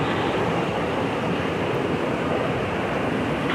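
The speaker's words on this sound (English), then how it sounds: "It's just pouring out still." Heavy rain pours steadily during a Caribbean Sea thunderstorm, a dense, constant roar of broadband noise that stays loud and unbroken throughout with no pauses.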